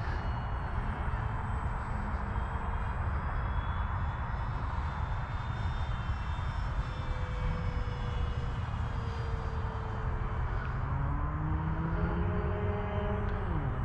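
Electric motor and propeller of an FMS P-47 Bonnie 1.5 m RC warbird in flight, a steady loud whirring drone with shifting tonal whines as throttle and distance change, continuous throughout without talk.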